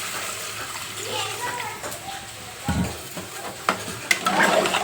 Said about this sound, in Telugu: వేడి నీళ్ళు వేసుకుంటున్నాను నేను.